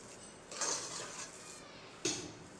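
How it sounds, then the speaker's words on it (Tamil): Metal spoon scraping and knocking against a pot while cooked rice for sweet pongal is stirred and mashed, two distinct clanks amid soft scraping, faint and close. "இந்த மாதிரி கிளறி ஸ்மாஷ் பண்ணி எடுத்துக்கோங்க"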